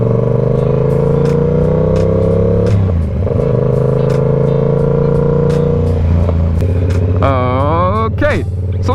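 Yamaha R7 motorcycle engine holding a steady drone, dipping and changing pitch around a gear shift and again near the end, loud and close with a rider talking over it.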